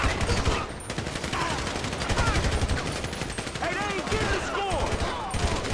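Dense, continuous gunfire during a shootout in the video game GTA 5, with rapid automatic bursts and overlapping shots close by, while voices shout over the fighting.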